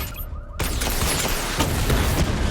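Missile barrage firing in Batman Arkham Knight: a sudden loud burst of rapid explosive launches and booms that erupts after a brief quiet moment and continues densely to the end.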